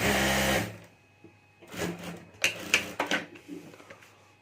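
A sewing machine stitches a homemade clutch purse in a short, loud whir lasting about half a second, followed by quieter fabric handling and light clicks nearby.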